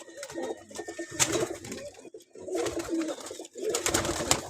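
Male pigeons cooing in several close, throaty, rolling bursts with short pauses between, and no voices.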